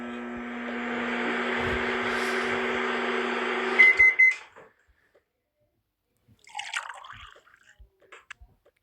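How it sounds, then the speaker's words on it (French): A microwave oven runs with a steady hum while heating milk, then stops with a few short beeps, followed by a door opening and some clunky handling noises. "On va le faire un peu chauffer au micro-ondes."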